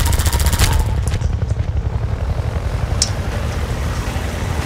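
Rapid gunfire in Half-Life 2 hammers steadily and loudly for several seconds as a dense, continuous chatter, with a heavy low rumble underneath.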